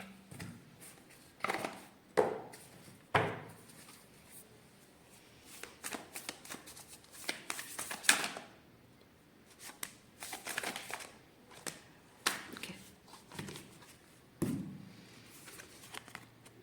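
Oracle cards are shuffled by hand in a steady series of crisp riffles and soft slaps, close and fairly quiet, with brief pauses between bursts and no talking.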